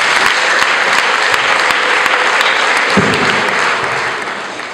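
A church congregation bursts into loud, dense applause that holds steady for several seconds, then begins to fade near the end.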